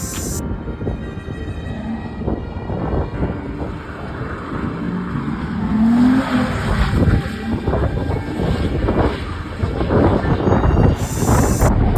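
Nissan 350Z drifting on a track, with a steady roar of engine revving and tire noise, heavy wind buffeting throughout and a swell of power around the middle.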